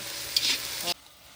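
A spoon stirs goat curry with tomatoes in a pan over heat, giving a short close scraping, sizzling stir that cuts off abruptly after about a second.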